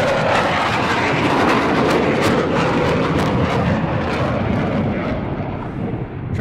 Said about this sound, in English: And out of this, Matty will be pulling into a manoeuvre called the Square Dance.